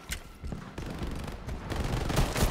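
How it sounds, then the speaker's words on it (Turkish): Machine gun fire in the sci-fi shooter game ShatterLine during a cooperative mode against aliens, rapid bursts of crackling shots in uneven clusters, loud and close, with no talking. "Abi makinalı tüfek çıkmış."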